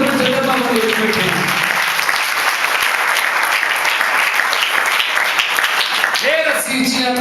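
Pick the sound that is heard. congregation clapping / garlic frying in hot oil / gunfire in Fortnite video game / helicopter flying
congregation clapping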